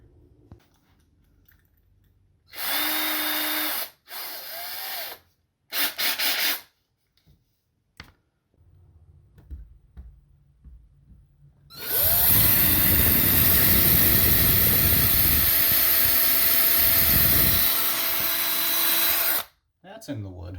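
Power drill boring into a wall stud and driving in fasteners to mount a Zotac VR backpack bracket: a few short loud whirring bursts, then one long continuous grinding run near the mic, with brief quiet talk in between.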